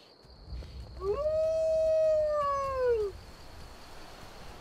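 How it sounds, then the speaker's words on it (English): Wolves howl in the video game Skyrim: a single long, rising then slowly falling howl of about two seconds stands out clearly above a low ambient background with a steady high tone. "Are you gonna deal with these wolves?"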